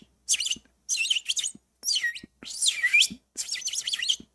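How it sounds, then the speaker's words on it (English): A bird, apparently a pet, chirps in five quick bursts of bright, high tweets and short warbles with brief pauses between them, close up and fairly loud, with no talk over it. "Okay, but he's a bird."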